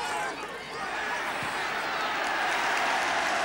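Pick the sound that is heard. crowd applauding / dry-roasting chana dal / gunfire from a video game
crowd applauding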